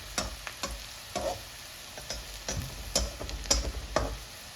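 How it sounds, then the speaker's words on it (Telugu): Uggani, a puffed-rice dish, frying lightly in oil, a soft continuous sizzle with frequent ticking taps of a spoon stirring in the pan, close and low in level, with no speech. "కొంచెం స్లైట్గా ఆయిల్లో ఇది వేయించుకుంటే సరిపోతుంది."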